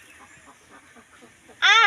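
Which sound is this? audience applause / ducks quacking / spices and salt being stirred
ducks quacking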